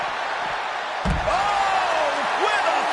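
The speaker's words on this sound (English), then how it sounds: "using the ambulance door as a weapon" In the WWE 2K25 video game, an ambulance door slams hard onto a wrestler during an ambulance match: one sharp, heavy metal thud under arena crowd noise and talk.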